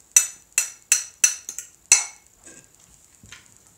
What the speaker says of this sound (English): Mix this up